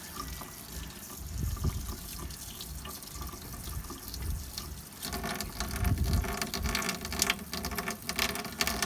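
Water runs steadily from an RV tap while the hot water line is purged during winterizing, a continuous splashing flow that grows louder and brighter about halfway through, with no talking.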